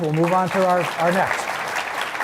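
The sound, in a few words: audience round of applause for panelists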